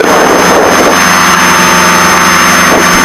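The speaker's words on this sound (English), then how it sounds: "let's wait for the engine to warm up" Piper Seneca twin-engine aircraft engine running steadily while warming up on a cold start, a loud continuous drone with a low rumbling hum and no pauses.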